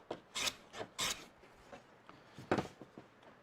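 A skew chisel cuts a chamfer on wooden end grain spinning on a lathe, giving short raspy scraping strokes in a loose rhythm. The sound is close and fairly quiet, with a few louder bursts.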